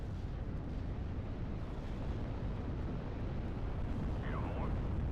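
Continuous artillery barrage and explosions rumble through a Steel Division: Normandy 44 battle, a thick, heavy low roar with overlapping blasts and no break.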